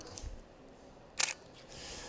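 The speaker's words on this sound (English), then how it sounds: "the SL2 has a little bit different shutter sound" A Leica SL2 camera shutter fires once, a sharp close mechanical click standing out from quiet room tone with a faint soft handling thump before it.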